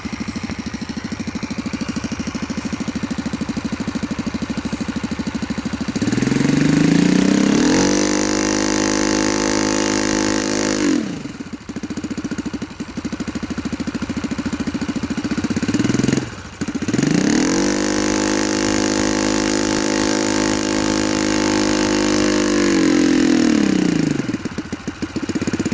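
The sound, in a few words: Saito FA-45 model engine idling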